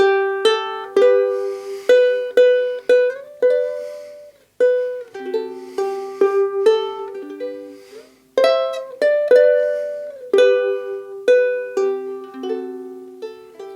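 A high G ukulele plays the opening melody phrase of "Hard Times Come Again No More": clear plucked single notes in a steady, gently paced line, each ringing and decaying, close and alone with no talking.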